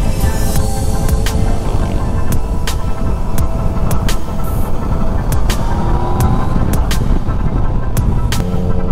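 A motorcycle fitted with a Scorpion exhaust, its engine droning with a loud, steady throbbing rumble up close, broken by several sharp clicks or ticks along the way.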